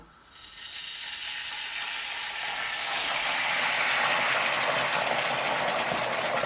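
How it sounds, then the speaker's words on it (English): Passata poured into a hot pan bursts into loud, steady sizzling and spitting that grows slightly fuller over several seconds, close up with no talking. "just add some passata, and it might splatter"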